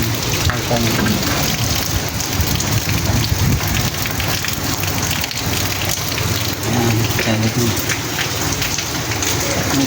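Heavy rain pours steadily during a storm, a loud, dense hiss that never lets up, with a few words spoken briefly beneath it.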